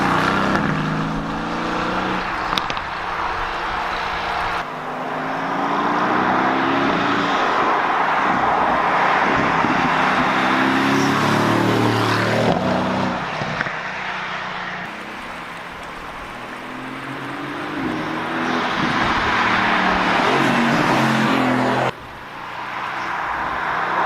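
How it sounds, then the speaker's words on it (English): A Mercedes-AMG GT S sports car drives on mountain roads, its engine droning loudly and steadily from inside the cabin, with rising and falling tones as it shifts through gears, and no talk. "drive this car how Mercedes wanted it to be driven"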